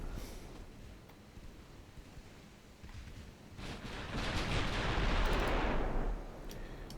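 Ship guns of dreadnought-era warships firing in a naval video game, a distant rumbling barrage that swells into a heavy roar of gunfire around the middle and then eases off.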